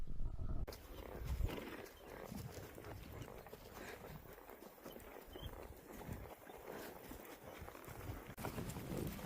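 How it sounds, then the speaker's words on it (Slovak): Horses, including two Anglo-Arabians and a yellow horse, walk along an outdoor countryside trail toward a hill, with faint irregular hoof steps under steady wind and rustling noise, no talk. "Všimnite si, že žltý kôň spraví 4 kroky, kým tieto dve anglo-arabky spravia jeden."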